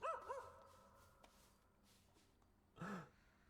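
Small barks and yips from a dog character in the video game Hades 2: a quick burst at the very start, then one louder bark near the end, with a soft game backdrop between.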